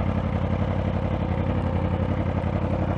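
A Yamaha R1 sport motorcycle idling nearby, a loud, steady, even engine rumble with a fast regular pulse that holds without change throughout.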